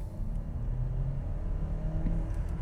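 Steady low engine rumble from a Lynk & Co 900 car, humming continuously with slight rises in pitch, heard close up without talk.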